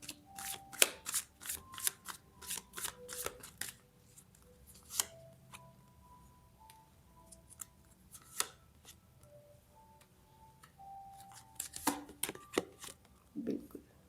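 A tarot deck is shuffled nearby in quick, riffling bursts, a busy flurry at the start, sparse flicks in the middle and another burst toward the end, fairly quiet overall.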